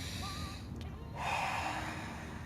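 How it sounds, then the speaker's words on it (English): One person takes a slow deep breath in and out, close and fairly soft, with a brief breathy rush that swells in the middle. "let's take another deep breath together"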